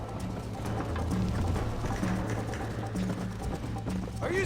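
Rhythmic hoofbeats of a horse galloping in the Red Dead Redemption video game, an even repeating clip-clop over ambient game sound.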